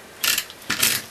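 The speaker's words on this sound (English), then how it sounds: "I'm going to put snail on the deboss side, and I'm going to go around the circle" A Snail adhesive tape runner is pushed around the debossed edge of a paper circle, making two short, close ratcheting rolls with a brief pause between them.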